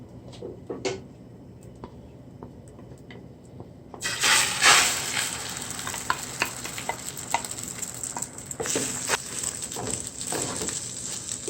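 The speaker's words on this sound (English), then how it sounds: "half of the cooking oil, the olive oil. You can use whatever oil you have. And now you're going to add the egg in." An egg drops into hot olive oil in a pan for egg fried rice, setting off a sudden loud sizzle after a quiet start, then a continuous crackling fry with scattered pops and utensil taps.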